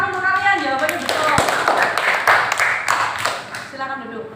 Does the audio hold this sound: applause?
yes